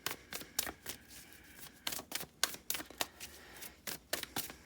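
Cards riffle and snap in quick repeated bursts, crisp and close, with short pauses between shuffles and no talking.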